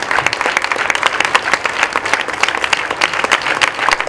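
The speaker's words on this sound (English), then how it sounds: "I think we should all clap and just acknowledge the kind of work." An audience claps steadily at an awards ceremony for a championship, a dense, even patter of many hands with no voices over it.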